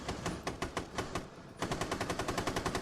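Rapid bursts of light machine gun fire from Rainbow Six Siege rattle in a steady automatic rhythm, with a short pause midway before a second sustained burst, fairly faint and distant with no talking over it.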